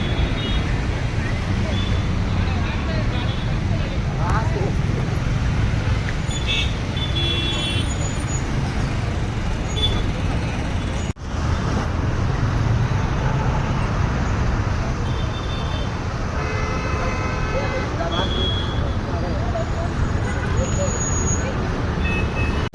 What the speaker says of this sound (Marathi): बघा लांबच लांब गाड्याच गाड्या